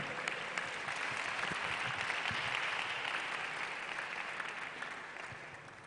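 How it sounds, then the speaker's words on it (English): Sustained applause from a seminar audience at a telecom road show in Kumasi, a dense steady patter of many hands that fades slightly toward the end, with no voices over it. "let's give her a big round of applause"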